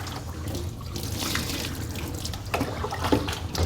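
Water pours steadily over a dog during a bath, a continuous close splashing and running flow with a few brighter splashes toward the end.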